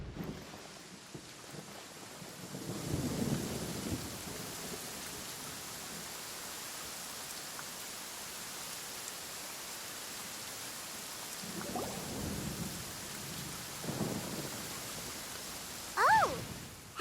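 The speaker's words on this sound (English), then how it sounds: "Where is the storm headed?" Steady rain in a Genshin Impact desert storm scene, a constant wash of hiss running throughout, with a few low rumbles of thunder and brief louder bursts near the start and end.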